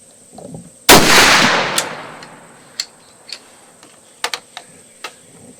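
A single loud Johnston muzzleloader rifle shot being fired while zeroing, a sharp blast with a decaying echo, followed by a few faint clicks and taps.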